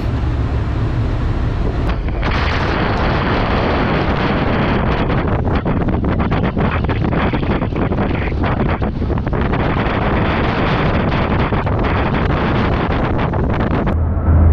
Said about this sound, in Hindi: ये बोट काफ़ी तेज़ चली है as compare to other boat